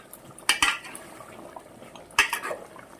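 Fried potatoes being tipped into a pot of broiler chicken, two bursts of metallic clatter and scraping from a spoon against the pot, separated by a quieter sizzling pause.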